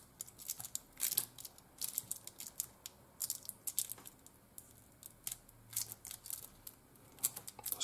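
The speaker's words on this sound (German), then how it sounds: "So, dann die Folie da drauf gedrückt" Plastic foil pressed by hand onto H0 model railway scenery for a campfire scene, giving quiet, irregular crinkling and crackling bursts close up, with no talking.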